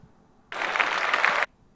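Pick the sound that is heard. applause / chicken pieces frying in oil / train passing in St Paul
applause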